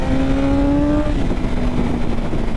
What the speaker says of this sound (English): It sounds so nice, this engine on this bike